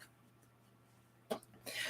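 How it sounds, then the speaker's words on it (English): A single sharp, close cough from a person getting over a cold breaks a quiet room, followed by a short breathy throat noise. "Pardon the coughing."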